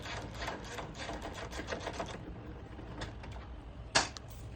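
Bolts being removed during a Brutal Performance HD air shifter install near the fuel tank, a steady rapid mechanical rattle like a running power tool for about two seconds, then quieter rustling and one sharp click near the end.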